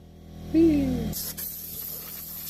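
A brief vocal sound comes first, then an air compressor's nozzle blasts dust off a wooden dove nesting box in a sustained, loud hiss that briefly dips and carries on to the end.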